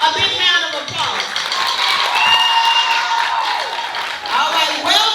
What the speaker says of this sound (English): everybody give Tristian Traylor a big round of applause